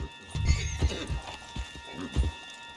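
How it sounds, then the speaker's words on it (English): A horse in Red Dead Redemption 2 gallops with rapid, loud hoofbeats and neighs, with faint game sounds and a steady background tone. "Put Strauss on the back of John's horse, and let's get out of here"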